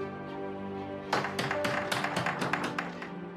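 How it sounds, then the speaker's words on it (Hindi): Knocking on a door, a run of sharp irregular raps starting after a second of low background hum, loud and close, with no talk over it. "तकरीबन 3 मिनट से ये लोग दरवाजा नॉक कर रहे हैं और कोई भी नहीं खोल रहा।"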